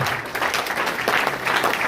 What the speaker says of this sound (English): a round of applause for Professor Emmanuel